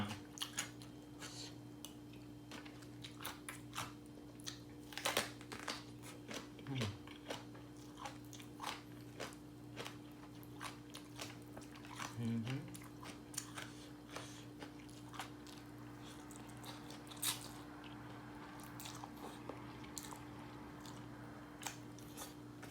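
Crunchy chewing of a spicy clam salad made with large clams and stink beans, with repeated close bites and crackles scattered throughout a long stretch, no talk.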